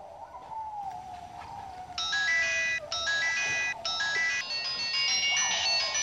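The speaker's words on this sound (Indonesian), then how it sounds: "Kayak telepon euy." A mobile phone ringtone plays as a bright, repeating electronic melody that starts about two seconds in and rings loudly after a faint sliding tone, continuing to the end.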